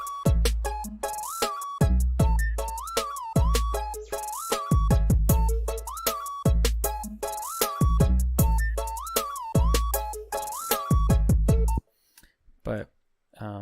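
A hip-hop beat with a sliding, wavering flute melody over punchy, booming bass hits and clicky percussion in a looping rhythm, then cutting out to brief scattered sounds at the end.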